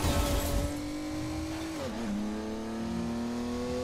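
Race car in Ridge Racer Driftopia sliding through a drift, steady engine drone with a tonal whine that dips and bends as the tires screech, loud and continuous with no talk.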